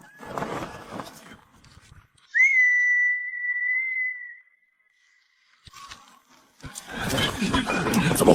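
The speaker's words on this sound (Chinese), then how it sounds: "听我哨声就放箭" A single long, shrill whistle blast sounds as an attack signal in a battle scene. It rings alone for about two seconds, set between bursts of rustling, commotion-like noise.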